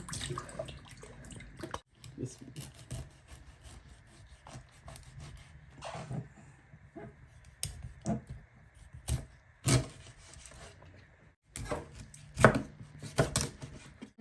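A hilsa fish being cut and cleaned with a knife, giving repeated close, uneven chopping and scraping strokes with short pauses between them, under some faint background sounds.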